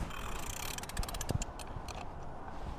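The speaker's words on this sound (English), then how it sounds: "with just 2 fingers, you can see, I only need to crank it 1," Prime Design ErgoRack ladder rack mechanism being cranked by its handle, a faint clicking ratchet and gear whir over steady background noise, short and close with no talk.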